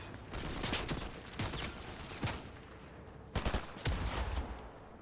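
Fortnite gunfire plays in repeated rapid bursts, several sharp volleys of shots with short gaps between them. The sound is fairly quiet and there is no voice over it.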